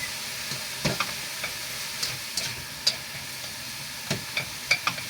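Minced meat fries in a pan, with a soft continuous sizzle broken by scattered crisp pops and spoon-stirring clicks at irregular intervals, close and moderately quiet.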